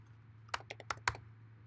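Four or five quick keystrokes on a computer keyboard, crisp and close, in a short burst over a low steady hum.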